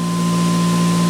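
A ReGenX generator prototype idling with no load at 3,450 RPM, giving a steady, continuous mechanical hum with a strong constant tone and even drone throughout, loud and close, with no voices.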